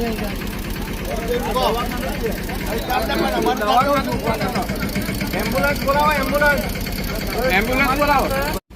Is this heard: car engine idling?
yes